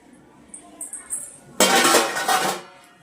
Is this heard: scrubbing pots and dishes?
yes